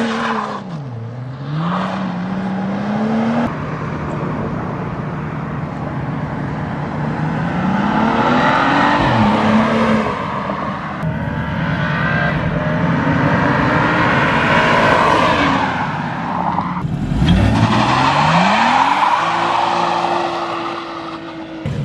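A BMW, a 435i or M3, accelerates past in a drive-by, its engine rising and falling through several gear changes as it roars close and loud, with a brief tire squeal near the end.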